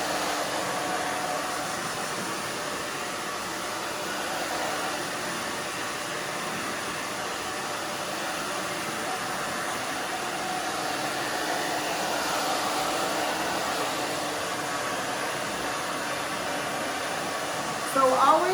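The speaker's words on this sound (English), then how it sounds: "always move your blow dryer, always move your hands" Blow dryer drying hair during a spiky pixie cut styling; a steady, moderately loud airy roar runs throughout, rising and falling slightly as the dryer moves.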